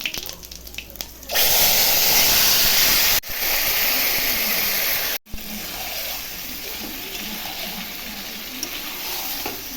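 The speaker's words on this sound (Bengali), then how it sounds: "মাংসগুলো ছেড়ে দিচ্ছি।" Pieces of meat for Bengali mangsho kosha hit a hot pan already holding cumin, cinnamon and cardamom, with a sudden loud sizzling hiss that holds steady, briefly dips twice, then settles into a quieter continuous fry.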